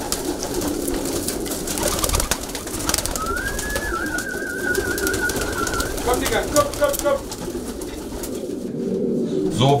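Racing pigeons coo steadily inside a loft, with repeated throaty calls close by. A high whistled note rises briefly over them, and mixed background noise runs throughout.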